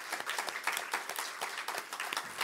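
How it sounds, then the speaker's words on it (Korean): Congregation clapping during a Sunday church service to welcome a visiting senior pastor: a scattered, moderately faint patter of hands in a room, with no talking. "우리 박수로 한번 환영하겠습니다"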